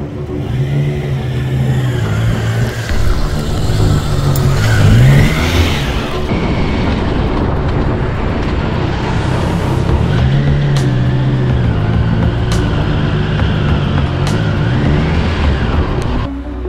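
A motorcycle accelerating straight through a line of cones during a licence handling test in Finland, its engine droning loudly throughout with rising and falling revs.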